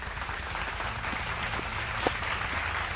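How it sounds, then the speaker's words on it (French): Steady applause from a small group of people clapping for game developers, a continuous dense patter of hand claps without speech. "Eh ben on applaudit les développeurs."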